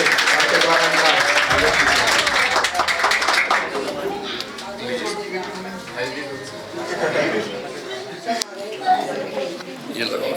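An audience at a school annual function claps loudly in a dense burst that fades into scattered clapping and crowd chatter, with voices heard over it.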